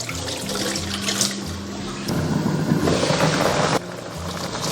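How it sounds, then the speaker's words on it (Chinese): Soaked rice is rinsed clean in water in a kitchen, giving a steady, close splashing and running-water wash that swells and shifts in texture before easing off near the end. "这个时候把浸泡好的大米的水倒掉，我们给它淘洗干净。"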